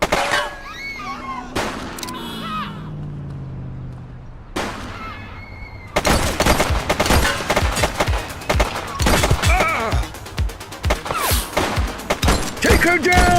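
Gunfire erupts in the police game The Precinct, loud, rapid shots in close bursts that continue to the end after a quieter opening where voices talk, with occasional heavy thuds among the shots.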